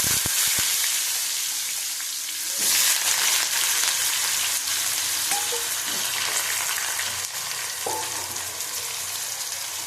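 Potatoes dropped into a hot wok of oil with fried panch phoron spices, giving a loud, steady sizzle and crackle throughout, with a few soft clinks of stirring and no talking.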